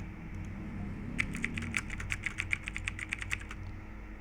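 Computer keyboard typing of a short sentence, about a dozen crisp clicking keystrokes in a quick, slightly uneven run after a brief quiet start, close and fairly faint over a low room hum.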